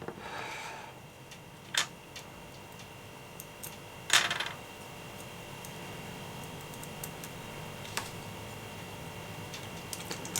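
Tiny metal screws for a Fanhome Ghostbusters Ecto-1 model kit clinking as they are picked from a tray: a few sharp light metallic clicks and taps, close and quiet, spaced out over a faint hiss.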